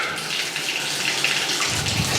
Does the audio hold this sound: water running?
yes